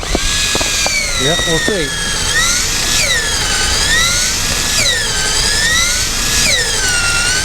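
A power drill bores a tap hole into a maple tree outdoors, its high whining pitch rising and falling in long sweeps over a rough grinding bite into the wood, with brief speech near the start.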